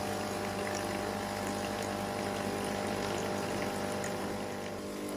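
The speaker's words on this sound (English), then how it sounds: "It's going to descale the hot water dispenser first" A Nespresso Gemini coffee machine pumps water steadily while descaling its hot water dispenser, a continuous low hum with watery flow, fairly quiet and unchanging throughout with no talking.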